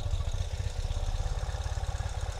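A 2021 Ural Gear Up sidecar motorcycle idles steadily on a cold engine, a low, even thumping pulse close by with no talk over it.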